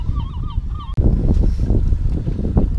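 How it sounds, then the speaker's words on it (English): Seagulls call from an island in Sturgeon Bay on the Great Lakes, a few loud, nasal cries in the first second, then heavy wind and engine-like rumble from a boat take over. "Look at all those damn seagulls."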